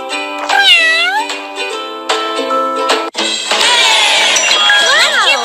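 Several bright, tuneful cartoon cat meows from a kids' baby care video game, in quick succession, loud and close, with rising and falling pitch and a cheerful chime-like tone mixed in.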